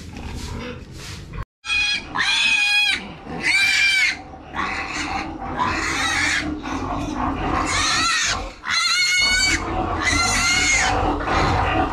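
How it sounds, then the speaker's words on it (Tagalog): Farm pigs in a pen grunt and squeal loudly and almost without pause, with overlapping calls up close. "Tingnan natin din kung marami silang alagang baboy."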